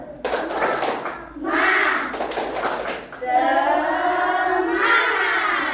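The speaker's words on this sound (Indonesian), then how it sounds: "Tepuk semangat." A class of children does a rhythmic spirit clap (tepuk semangat), sharp bursts of group clapping mixed with loud shouted chanting voices in a classroom.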